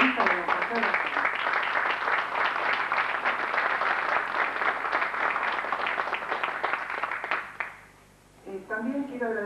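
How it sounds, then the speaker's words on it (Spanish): Dense audience applause fills a book presentation about Carlos Gardel, sustained and fairly loud for about eight seconds before fading into a voice. "Entonces, podemos aplaudir, si quieren"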